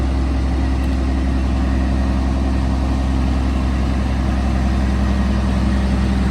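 A Mercedes engine runs quietly at a steady idle, a smooth low continuous hum with no change in pitch throughout.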